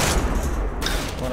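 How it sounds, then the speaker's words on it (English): A flashbang grenade goes off in a tactical shooter match, a dense, loud burst of noise across the short clip, with a sharp shift partway through. "Throwing flashbang."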